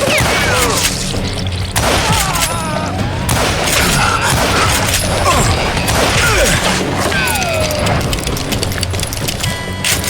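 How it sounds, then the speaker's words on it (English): Gunfire rattles through a Call of Juarez: Gunslinger shootout in dense, overlapping bursts with crashes and thuds, loud and chaotic for the whole stretch. "Who's shooting at you?"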